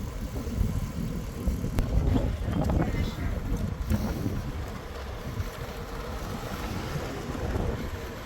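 Wind blows outdoors on a cloudy day, a steady rumbling gust against the microphone with faint hissy swells, moderately loud and continuous.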